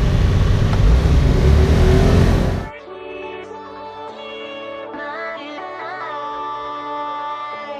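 A 50cc scooter ridden on a detour: loud wind rush at first, then a steady whining engine note that rises and falls in pitch as the ride goes on.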